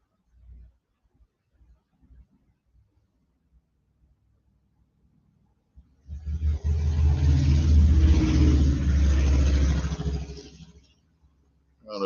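A truck engine rumbles past outside a neighborhood home, swelling from quiet into a loud, broad roar for several seconds before fading away, with a few faint thumps beforehand.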